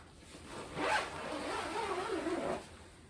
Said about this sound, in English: we'll zip this together first